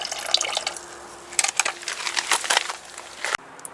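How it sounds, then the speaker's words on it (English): Pink antifreeze and water gush and splash from the plumbing of a 2018 Roadtrek Zion camper van being winterized, a spattering, uneven flow close by that cuts off abruptly just before the end. "we've got antifreeze coming out of there."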